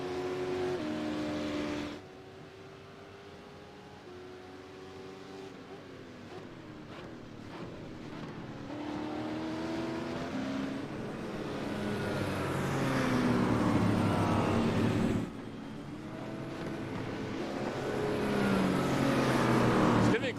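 Race cars accelerate on the Mount Panorama circuit during a Trans Am Championship race, a steady engine roar that rises and swells over about twenty seconds, heard under commentary with wind noise.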